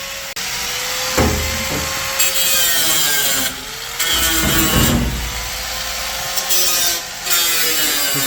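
A power tool grinds off old drill bits during track installation work on a Bombardier snow vehicle, loud harsh rasping bursts that start, stop and restart several times, close by with no talk.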